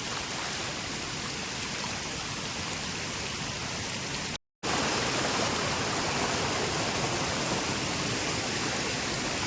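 A Konkan stream swollen after a night of rain rushes in a steady, dense hiss and roar of flowing water, continuous and unbroken apart from one brief dropout.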